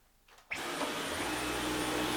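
A Dyson V11 Absolute cordless vacuum cleaner switches on after a quiet half second, then runs with a steady, loud broadband whir and a high whine, heard up close with no talking.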